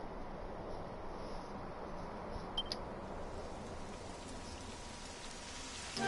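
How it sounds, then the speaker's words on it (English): Steady rain falls throughout a Dragon Quest XI game scene, a soft, even hiss of medium loudness that holds unchanged from start to finish with no voices over it. "And it starts raining."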